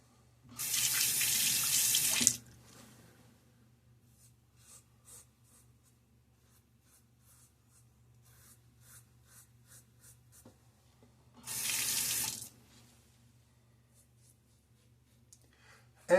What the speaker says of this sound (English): Rinse your head off there, your razor.